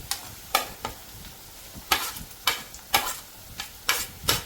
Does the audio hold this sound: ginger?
yes